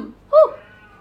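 A cat in heat lets out a single short, nasal caterwaul wail partway through, fairly close and loud, with quiet background around it.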